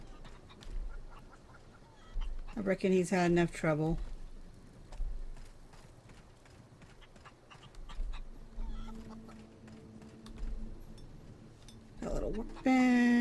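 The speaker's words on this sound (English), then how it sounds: "Ooh, chickens." Chickens cluck in a spot within the video game The Outer Worlds, a short burst of fowl calls followed later by another, with someone speaking briefly over quiet ambient background.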